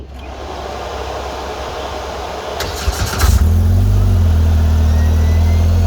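Loud steady hum, then a turbocharged car engine with a Pro R entry-level turbo kit cranks and fires, settling into a rough, loud idle close by.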